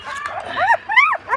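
Hungry small puppies whimpering and yipping up close, a few rising-falling whines in quick succession.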